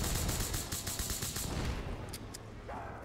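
A Magnum revolver fires in Black Ops 3 Custom Zombies on the Town Remastered map with a BO2 mod: loud shots in quick succession over a dense backdrop, then a sparser stretch with a couple of isolated cracks.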